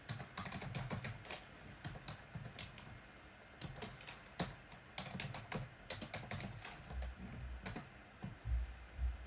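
A password is typed on a computer keyboard in quick irregular bursts of light key clicks with short pauses between, close and fairly quiet, with no talking.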